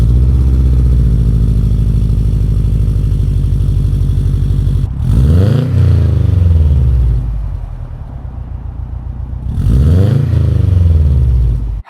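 A car's Cobb stainless steel exhaust idling with a deep, steady burble, then revved sharply twice, each rev rising to a raspy roar before falling back.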